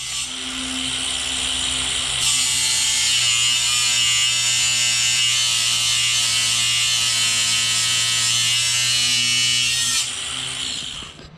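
A grinder grinds down protruding bolts in a continuous loud, high-pitched whine that runs steadily for about eight seconds, rising sharply in pitch once it bites and dropping off at the end, with no talking.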